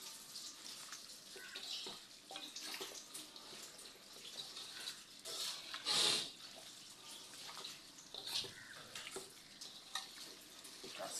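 Garlic and green chili frying in a pan, a soft, steady sizzle with faint crackles and a brief louder burst midway, heard close and alone.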